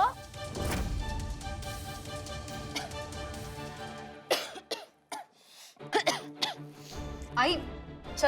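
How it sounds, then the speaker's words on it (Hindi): Woman coughing in a tense domestic scene: a run of harsh throat-clearing coughs, the loudest early on and a burst of several more near the end, with dialogue mixed in throughout. "मुझे खांसी हो रही है।"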